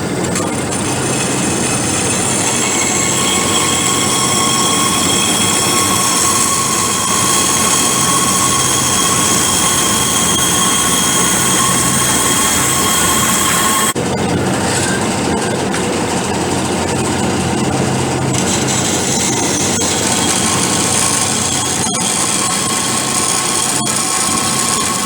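A vertical bandsaw runs with a steady, loud whine and hum as it cuts through a workpiece, the tone shifting slightly partway through as the cut proceeds, with no talk.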